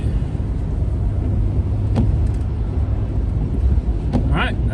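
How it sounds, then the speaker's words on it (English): KJ's new truck climbs steep Town Hill out of Wellsburg, a steady loud engine drone with heavy wind rush over the microphone, continuous and close, with a voice speaking briefly toward the end. "that was KJ's new truck up over Town Hill and Town Hill number 2 coming out of Wellsburg"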